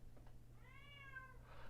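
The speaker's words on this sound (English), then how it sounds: "Ignore the meow." A single faint cat meow, a drawn-out tonal cry of about a second over a low steady indoor hum, with no talking.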